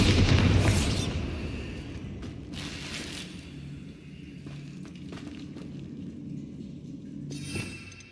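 A Bombarda explosion spell goes off in Hogwarts Legacy, a loud booming blast at the start that fades into a rumbling tail, followed by fainter impacts and mechanical clatter, with another sharp burst near the end.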